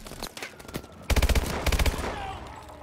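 Four-round burst SMG fire in Call of Duty: Advanced Warfare, loud rapid bursts of shots close up, with scattered shots before them and game noise between.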